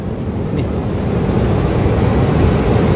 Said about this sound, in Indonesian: Tadi ombak udah sampai sini masih jauh